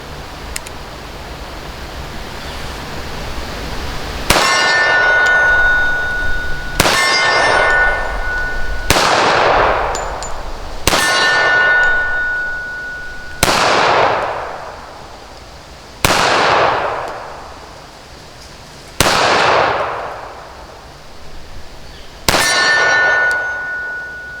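Taurus PT1911 pistol fired at steel targets: seven sharp, loud shots, each followed by a ringing metallic clang from a hit plate, spaced a few seconds apart.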